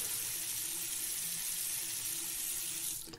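Tap water runs steadily into a sink for hand washing in the video game Denizen, a close, continuous rushing stream that cuts off abruptly at the end with no talking.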